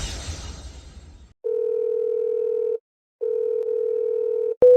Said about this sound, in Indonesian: Presdir Lu pasti sedang rapat, dia tidak dengar teleponnya